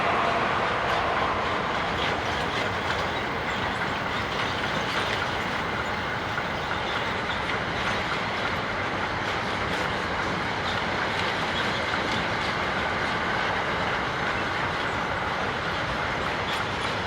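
A DB Class 151 locomotive hauls a train of empty car-carrier wagons south along the Northeim–Hannover main line in Germany, giving a loud, steady rumble with rhythmic clickety-clack of wheels on rail joints that holds unbroken throughout.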